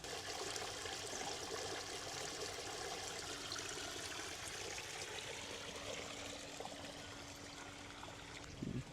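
Water gushes from an opened tap on a farm in a Jaffna village in Sri Lanka, a steady, full flowing rush with a faint low hum beneath and no talking.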